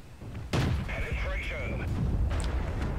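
A tank cannon in a World of Tanks–style battle game fires premium ammunition with a single sharp, booming shot, followed by whistling and rumbling battle noise. Someone talks over it.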